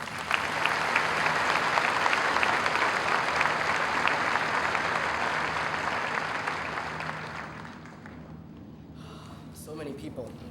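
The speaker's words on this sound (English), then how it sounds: "please give him a round of applause." A large high school commencement crowd applauds the 2008 valedictorian. The clapping is dense and sustained for about eight seconds, then fades out, and a voice follows.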